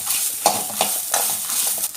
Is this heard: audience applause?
no